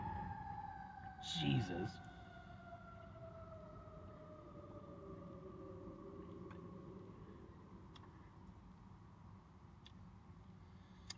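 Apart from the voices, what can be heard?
sirens of emergency vehicles passing by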